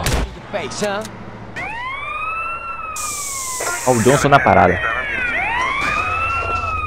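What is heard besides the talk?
police car siren in the video game GTA San Andreas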